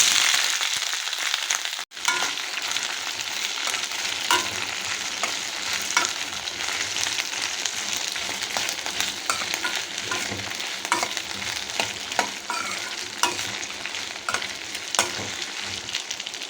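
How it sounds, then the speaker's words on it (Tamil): Okra frying in hot coconut oil while being stirred, a continuous loud sizzle with scraping stir strokes throughout, no voices. "இந்த வெண்டைக்காவை நல்லா வதக்கிக்கலாம்"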